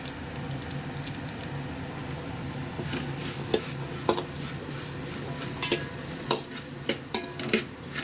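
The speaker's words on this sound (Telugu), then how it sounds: "తర్వాత నూడిల్స్ మసాలా వేసి కలుపుకున్నాం." Noodles stir-fried with masala in a pan, a low continuous sizzle broken by a series of sharp utensil clinks and scrapes that grow more frequent toward the end, close and fairly quiet, no voices.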